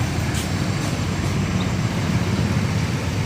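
Motorcycle hauling sacks of fertilizer for rice paddies, its engine giving a steady, loud, low rumble with road noise throughout, no talk over it.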